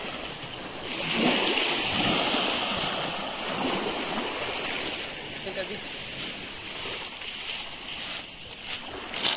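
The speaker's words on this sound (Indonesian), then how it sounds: "Pantai." Ocean waves wash steadily onto a dark beach at night during a camping trip, a continuous close surf roar with faint voices in the background.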